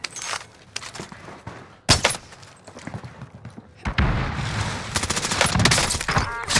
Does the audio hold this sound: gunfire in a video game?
yes